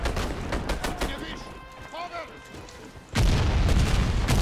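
Sniper and other gunfire in the shooter game Warface: sharp shots crack at irregular intervals over a busy battle bed, then a dense, loud burst of continuous firing takes over for the last second or so.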